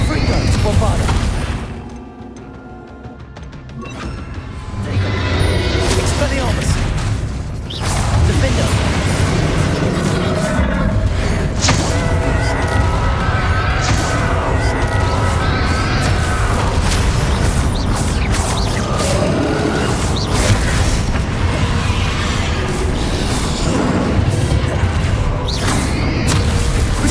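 Confringo and Bombarda explosive spells in Hogwarts Legacy, cast during a battle, produce booming blasts and crackling impacts over a dense, loud layer of fight noise and music, with voices speaking at times.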